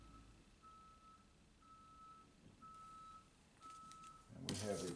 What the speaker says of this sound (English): And we have a truck outside.